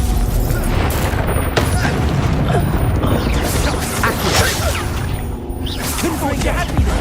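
A Confringo fire spell blasts during spellcasting combat in Hogwarts Legacy, a loud, dense burst of booming, whooshing game effects that roars on without pause through the whole stretch.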